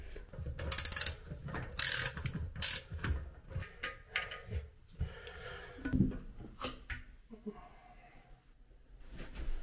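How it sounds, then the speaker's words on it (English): A wrench ratchets against the bolts beneath a toilet tank during removal, giving repeated close mechanical clicking and metallic turning, loudest in the first few seconds and then sparser and softer. "we can reach the bolts underneath and remove those"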